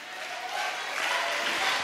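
A school audience at an international school claps after a vice president is introduced, applause swelling slightly louder partway through and continuing steadily.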